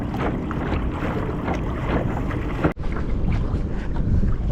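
Rough open-sea water sloshes and slaps around a fishing kayak, a steady loud wash mixed with wind buffeting the microphone, with a brief dropout midway.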